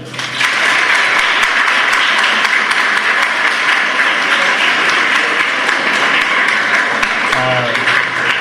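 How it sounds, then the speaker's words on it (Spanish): Loud, sustained applause from a lecture audience for the speaker María Gloria, a thick continuous roar of many clapping hands, with faint voices briefly surfacing near the end. "Vamos a darle un fuerte aplauso a María Gloria."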